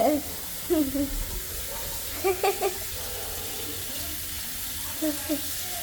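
Water runs steadily from a tap as a soft, constant hiss while wax tape is removed from legs, with a few brief bursts of voice rising over it now and then.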